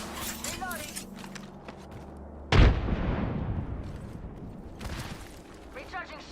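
In a video game, a grenade goes off with a sudden loud, close boom and a rumbling tail that fades over a few seconds. Game voices and gunfire-like effects surround it.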